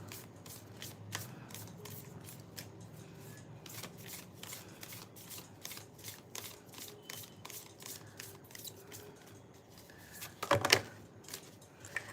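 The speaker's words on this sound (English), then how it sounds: "So I'm just gonna shuffle some cards." A deck of oracle cards is shuffled by hand in a quiet room, a soft run of rapid riffles and flicks continuing throughout, with a brief louder burst near the end.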